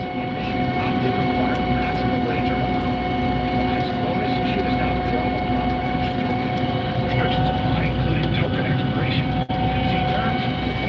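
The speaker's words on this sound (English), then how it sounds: "I'm in a combine, brother." Steady, loud engine drone inside a moving 9400 combine harvester on a cold farm day, with strong tonal hum and broadband rumble running continuously and a voice talking over it.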